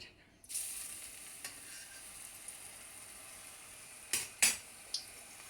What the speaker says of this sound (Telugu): ఆయిల్ వేడెక్కింది. ఇప్పుడు వేసేస్తామండి, ఒక్కొక్కటిగా వేసేస్తున్నాం.